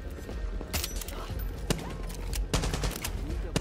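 Silenced pistol shots in Far Cry 6, a few sharp suppressed cracks spaced irregularly over steady game ambience, with no voices.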